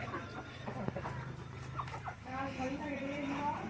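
A rooster clucks in short low bursts close by, with people talking over it.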